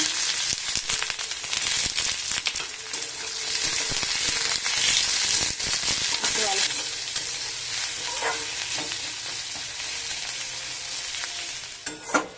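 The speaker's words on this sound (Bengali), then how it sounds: "অল্প একটু তেল দিয়ে পেঁয়াজ ভেজে বেরেস্তা বানিয়ে নেব।" Onions fry in a little hot oil for a mutton kosha, giving a loud, dense crackling sizzle that eases slightly over time, with occasional stirring clatters near the end.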